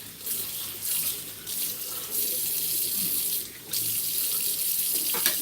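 Steady tap water pours into a kitchen sink as a cutting board is washed, a continuous close splashing with a few brief dips and a small knock near the end.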